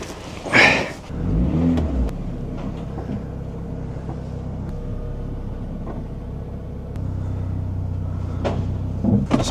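Wrecked Honda Civic being driven off a trailer: a loud door slam or thud, then the engine rumbling at low revs as the car creeps down, rising slightly toward the end, close up with no talking.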